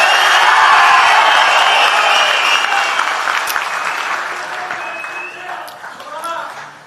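A large crowd at a TVK rally for Vijay's candidate announcement applauds and cheers, loud sustained clapping and shouting that slowly fades, with scattered whistles and whoops near the end.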